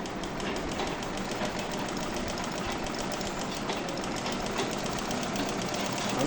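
A sewing machine runs after its belt is refitted, producing a steady, loud mechanical whirring drone that holds an even level throughout, with no talking.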